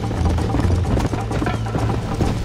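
Horse hooves pound in a fast galloping rhythm in the video game Red Dead Redemption, loud and continuous with a low steady drone beneath.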